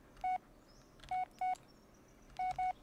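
Short electronic phone beeps from the Blair Witch game sound in a sparse pattern: one tone, then a pair, then another pair, each clean and fairly loud over a quiet, low background rumble.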